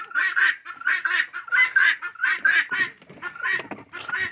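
Ducks quack in a steady run of about a dozen loud, close calls around their nest on a free-range farm where they are kept with chickens.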